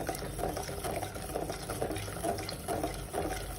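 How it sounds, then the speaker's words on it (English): Milk is poured slowly into a pot of payasam, a South Indian sweet, on a high flame while being stirred. A soft, steady liquid trickle mixes with faint stirring clinks throughout, close by, and no one speaks. "I'm going to slowly pour the milk and keep stirring again."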